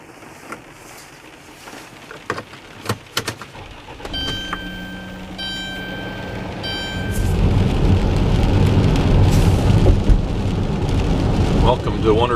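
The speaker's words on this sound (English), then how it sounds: "Seattle is going to be a wet one. At least yesterday it was just drizzling. Today it's pretty much pouring." Heavy rain pours along the waterfront on Western Avenue in downtown Seattle, a dense hiss that swells louder in the second half, with scattered sharp knocks and a brief tonal beeping mid-way.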